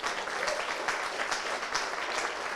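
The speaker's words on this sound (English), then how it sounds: "If we could give them a round of applause." Sustained audience applause fills a large room at a Toronto Centre all-candidates meeting, dense steady clapping from many hands throughout without pause.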